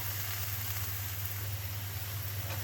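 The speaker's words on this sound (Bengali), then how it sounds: "বেগুন একটু ভাজা ভাজা হোক" Eggplant and vegetables frying in oil in a pan, a steady, dense sizzle that holds evenly throughout, close by and without any voices.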